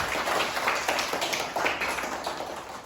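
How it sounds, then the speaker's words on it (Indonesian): A fourth-grade class claps together in a classroom, a steady, dense patter of many hands that holds at an even level for a few seconds with no voices over it. "Oke, tepuk tangan untuk semua dulu."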